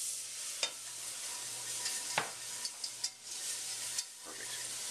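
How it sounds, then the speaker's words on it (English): Milk being whisked into a roux for Alfredo sauce, a quiet steady sizzle with occasional light taps and scrapes of the whisk against the pan, no voices. "I'll just add the remainder of the milk here, whipping it up. Breaking that roux up as we add it."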